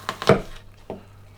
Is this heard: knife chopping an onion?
yes